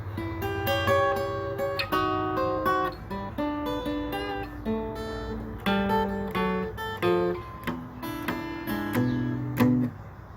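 An acoustic guitar plays a bluesy intro alone, plucked notes and bass runs with strummed chord accents, steady and close.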